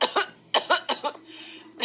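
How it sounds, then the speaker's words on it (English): A string of harsh coughs from a woman with a collapsed lung who is coughing up blood, four to five bursts in quick succession, close and loud, with no talking. "Cough sounds bad"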